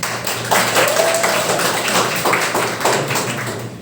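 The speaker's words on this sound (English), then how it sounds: "let's give a round of applause to Toastmaster Jen" Applause from a Toastmasters meeting audience for the Toastmaster: scattered, uneven clapping from a modest group in a room, moderately loud and continuous.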